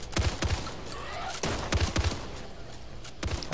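Bursts of gunfire from the Back 4 Blood video game crack out in short volleys, a few quick shots clustered together, then another cluster after a pause, fairly close and sharp over a quiet background.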